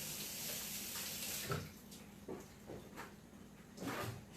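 Water running from a kitchen tap as hands are rinsed, a faint steady hiss with a few soft splashes and clunks.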